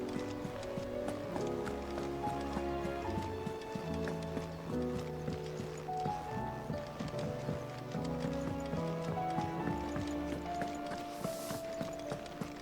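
Horse hooves clip-clop steadily in Final Fantasy XVI, a rhythmic trot set under a dense layer of continuous game music, with an occasional faint whinny.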